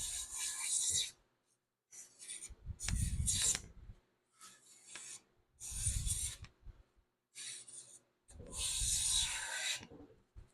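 Hand plane, a No. 6 set for smoothing, shaving a wooden board in a run of five steady rasping strokes with short pauses between, close and clear with no talking.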